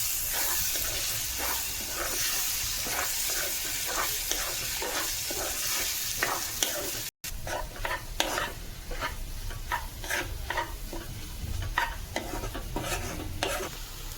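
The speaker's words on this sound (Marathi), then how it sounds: "ढवळून घेऊया." Four eggs being stirred in a hot pan for street-style egg rice: a steady loud sizzle with rhythmic scraping strokes of the spatula running throughout, no voices.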